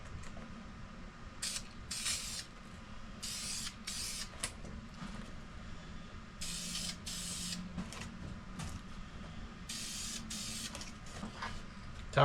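Spray gun laying a light first coat of paint on a sheet metal race car body, heard as several short hissing bursts separated by pauses over faint background hum.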